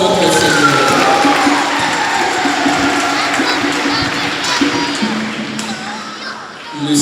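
A church congregation at Saint Luc parish in Banabankitu, Kinshasa, cheers and acclaims in a loud, dense crowd roar that runs steadily throughout and eases slightly near the end.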